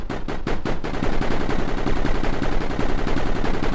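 Defense turret firing in the video game Mindustry, a loud continuous rapid burst of gunfire that speeds up from a few separate shots into a dense, steady stream, with no talking.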